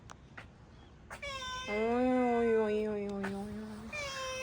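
A pet cat meows close by: a few short calls, then a long, loud, drawn-out meow with rising and falling pitch, and a final shorter cry.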